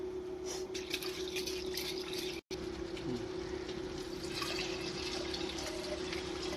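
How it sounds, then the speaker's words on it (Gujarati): Water runs steadily into a vessel to wash valor lentils, with a soft gurgle and trickle, a low hum behind it and a brief dropout partway through. "હવે પાણી એડ કરી આપણે તેને ધોઈ દેવાની છે"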